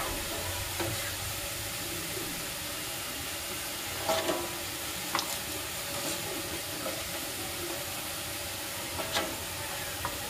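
Garlic frying in oil gives a steady, moderately quiet sizzling hiss, with a few soft clicks and scrapes breaking through now and then.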